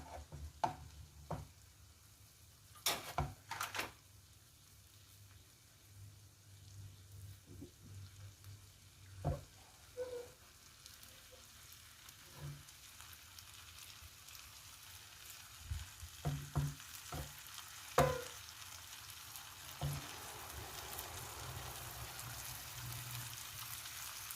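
Egg frying in a pan for pad thai with grilled chicken gives a steady soft sizzle, broken by scattered scraping and clinking stir sounds from a utensil, heard close and alone.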